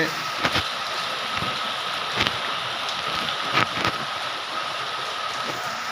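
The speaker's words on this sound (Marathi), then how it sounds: "अचानक पाऊस सुरू झाला आहे" Sudden rain falling in a steady broadband patter, heard from indoors near a window, with a few louder thumps and knocks at intervals over the continuous wash.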